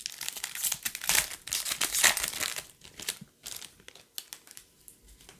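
A foil pack of 2020 Bowman baseball cards from a retail blaster box being torn open, with sharp crinkles and crackles in irregular bursts that ease into lighter rustles, close up and without talk.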